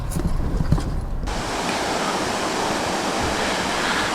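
Water tumbling over little tiny waterfalls beneath a small woodland bridge along Curtis Creek, a loud steady rushing wash that starts after a brief muffled moment and continues unbroken nearby.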